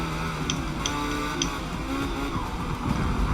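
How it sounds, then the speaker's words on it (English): Engine note of a V8-swapped Porsche 911 in the Forza Motorsport racing game, a steady droning motor with brief high tyre or whine chirps, continuous and fairly loud throughout. "Come on, who wouldn't want a V8 in a Porsche?"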